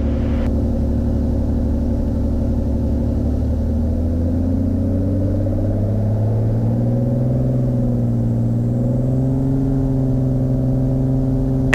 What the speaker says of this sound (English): Minden traffic, Cirrus 232 Sierra Romeo taking off runway 19, Minden.